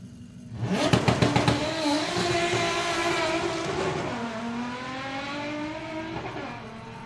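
A White Label Motorsport Corrado launches on a drag strip in a solo run, its engine revving hard with rapid gear-change bursts near the start, then holding a loud, steady high-pitched drone as it pulls away, with no talk.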